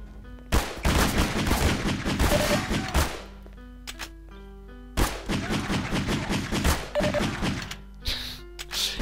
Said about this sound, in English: Yes, the shooting in this game is not complicated.